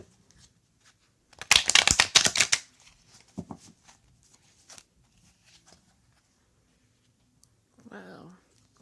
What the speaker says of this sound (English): So let's get to shuffling.